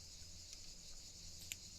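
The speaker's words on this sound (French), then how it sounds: "Eh oui, aïe les cigales." Cicadas buzz in a steady, continuous high drone throughout, fairly quiet and unbroken, with no talk over them.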